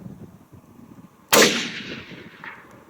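A Mosin rifle fires a single loud shot at a steel plate target outdoors, a sharp crack with a long decaying rumble of echo trailing off over the following second.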